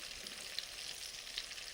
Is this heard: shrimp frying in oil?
yes